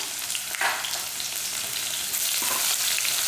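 Handful of small onions sizzling in hot oil with pepper and curry leaves for a black channa masala gravy, a loud continuous frying crackle with occasional stirring scrapes, close up and without talk.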